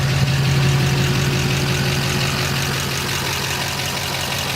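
A car engine with a spun harmonic balancer idles close by after starting, a steady humming drone with a low, even throb throughout and no talk.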